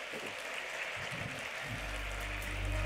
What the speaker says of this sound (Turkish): Alkışlarla uğurluyoruz kendisini.